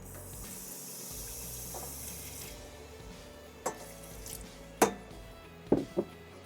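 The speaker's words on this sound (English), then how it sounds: "So I'm going to start with a little bit of milk." Milk pours into a hot pan on the stovetop for creamy mac and cheese, a steady liquid rush with light sizzle, ending in a few sharp clinks of utensils against the pan.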